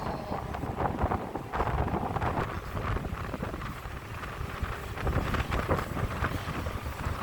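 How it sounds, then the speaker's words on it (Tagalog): Strong wind buffets the microphone in loud, gusting rushes, rising and falling continuously with no voices. "super lakas ng hangin"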